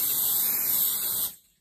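A spray bottle of fast-drying nail polish spray gives one short, close hissing burst lasting just over a second, then cuts off into silence.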